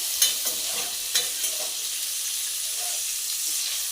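Semolina pulao (suji polao) sizzles and fries in a pan while a utensil stirs it, giving a continuous loud hiss broken by a few sharp scraping clicks early on.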